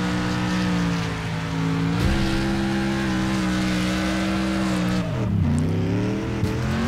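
Opponent cars in the demolition racing video game Next Car Game produce a steady engine drone with shifting pitch, close and loud, with a brief dip as revs drop near the end.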